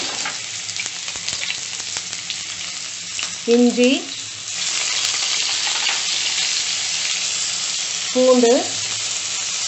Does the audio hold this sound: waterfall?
no